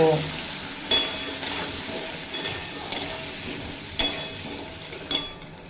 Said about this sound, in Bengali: আলুগুলো স্বাদ মতো লবণ আর পরিমাণ মতো হলুদের গুঁড়ো দিয়ে খুব ভালোভাবে ভেজে নেব